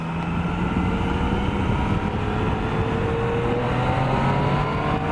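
Yamaha FJ-09 motorcycle engine droning loudly and continuously under throttle, pitch slowly rising and dipping with revs, heard from the rider's position with heavy wind noise.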